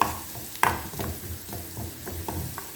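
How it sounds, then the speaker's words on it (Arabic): Garlic frying in a pan, a soft, low sizzle with spoon stirring scrapes and a few light clinks, quiet and close. "حمروا الثوم على قد ما تقدروا، يبقى اللون اللي هو البني الغامق"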